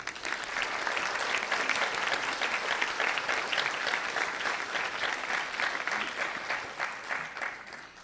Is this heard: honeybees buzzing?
no